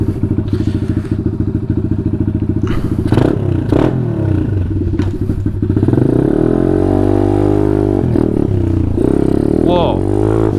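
Taotao DB17 125 dirt bike with an upgraded carburetor idles steadily up close, a loud low chugging engine note running throughout, with a few bumps and rattles and a person talking partway through.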